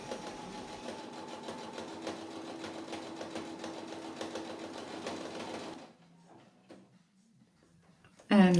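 A sewing machine runs steadily across a bulky garment seam, its motor whirring and stitching in an even rapid rhythm for several seconds before stopping, followed by a few faint handling clicks.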